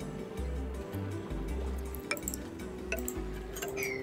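Water dumped in the colony-building game Oxygen Not Included gives a soft, faint trickle and dripping with small liquid ticks, layered over a looping low-pitched musical background.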